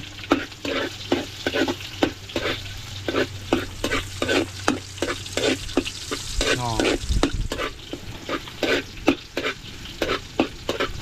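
Onions sautéing with kadyos beans in a pan: a steady sizzle with rapid, rhythmic scraping strokes of a spatula stirring throughout, close and fairly loud, with no talking.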